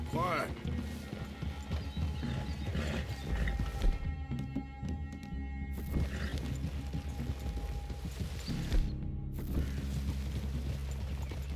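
Horses in the Red Dead Redemption 2 video game, with steady clip-clop hoofbeats at a walk, a brief snort or whinny, and background music and speech mixed over them throughout.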